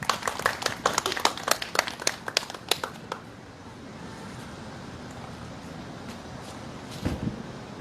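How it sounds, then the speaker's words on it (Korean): A small audience at a candlelight rally against THAAD in Gimcheon claps briefly, a burst of close, sharp claps that fades after a few seconds into low outdoor background noise with a faint thump near the end. "박수로 모시겠습니다."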